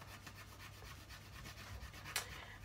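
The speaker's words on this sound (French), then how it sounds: "ça visiblement c'est une carte à gratter, donc je vais gratter devant vous" A scratch card from a beauty subscription box scraped close up, giving a continuous soft rubbing rasp with one sharper scrape near the end and no voices.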